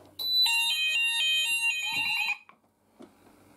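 Nittan smoke detector alarm sounding during a fire system test: a loud, continuous electronic tone that pulses rapidly for about two seconds, then cuts off abruptly, leaving faint room noise.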